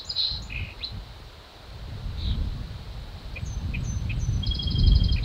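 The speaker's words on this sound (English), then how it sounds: "So we've got a song sparrow that is reacting to the pishing." A song sparrow, reacting to pishing, gives scattered short high chirps and a quick trilled burst near the end over low outdoor rumble and rustling.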